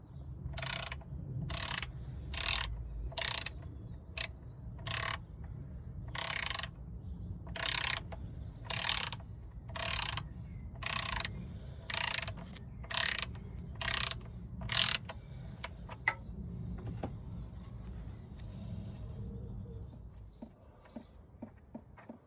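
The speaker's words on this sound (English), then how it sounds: "to remove the sump plug, we will use a 13mm socket" A ratchet wrench with a 13mm socket loosens the sump plug on a Land Rover Discovery 3 4.4 V8. About a dozen loud, close bursts of clicking come in a steady rhythm, then fade into quieter scattered clicks.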